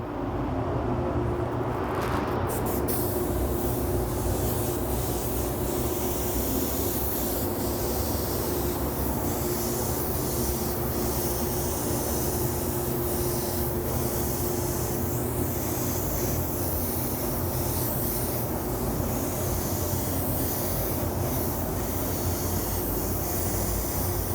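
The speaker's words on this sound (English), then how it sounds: "I can move a little bit faster because of the spray gun. So I'm going to go ahead and spray a little bit of Pearl" A spray gun applies pearl paint to a car during custom automotive paint work, a loud, continuous airy hiss that holds steady throughout, with no talk.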